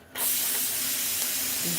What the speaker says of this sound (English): Okay, the steam is almost out.